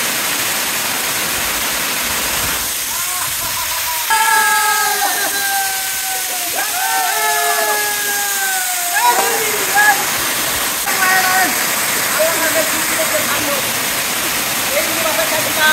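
Khaiyachhara waterfall's first tier rushing in a loud, continuous broadband roar, close by, with a voice talking briefly over it midway.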